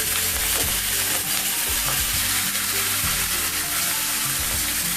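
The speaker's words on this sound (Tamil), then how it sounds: "எண்ணெய் சூடாயிடுச்சு, சிக்கன் போட்டுக்கலாம்" Chicken fries in hot coconut oil in a frying pan, giving a loud, continuous sizzle with scraping stir strokes throughout.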